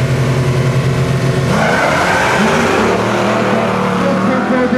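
A Ford Mustang drag racer launching off the start line beside a Plymouth, a loud roaring engine that climbs in pitch as it pulls away, with a faint announcer-like voice under the noise.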